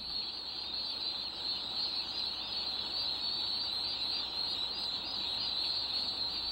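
A flock of young turkeys fills a barn with a continuous, dense chorus of high peeping and chattering calls, steady and loud throughout with no talking.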